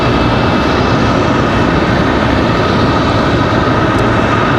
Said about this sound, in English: Got a whole line of planes coming in